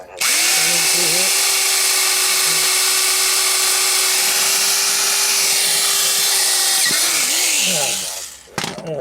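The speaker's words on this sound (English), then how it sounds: "I got a drill bit a little bit bigger than a 1/8 inch here" A power drill with a bit just over 1/8 inch whines loudly and steadily for several seconds drilling out rivets on a Buick Skylark power window motor, spinning down near the end, with a voice speaking briefly under it.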